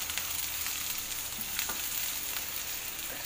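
Medium-sized onion for kanda pohe sizzles steadily in hot oil in a pan while being stirred, giving a continuous close crackling hiss with soft scraping strokes and no talk.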